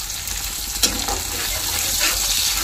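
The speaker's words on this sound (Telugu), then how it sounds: "ఒక 5 నిమిషాలు ఈ ఉల్లిపాయని ఫ్రై చేసుకోవాలి" Onions with salt fry in a pan, making a dense, steady sizzle up close, with a single soft knock near the start and no speech.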